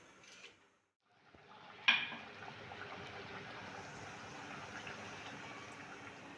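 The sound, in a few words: chakwat greens in buttermilk boiling in pot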